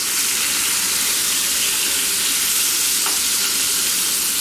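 Pomfret fillets fry in a hot pan with a dense, steady sizzle that fills the whole stretch, and a brief scrape or flip marks the turn midway through, with no talking.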